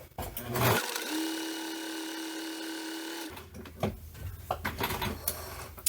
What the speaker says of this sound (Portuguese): Passar uma costurinha reta mesmo, só pra unir isso aqui